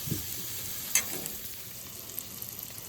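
Food frying under a press on a Blackstone griddle, a faint, steady hiss with one small clank, close and quiet, no voices.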